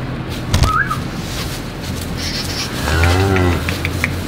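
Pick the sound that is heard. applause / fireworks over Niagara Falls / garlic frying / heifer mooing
heifer mooing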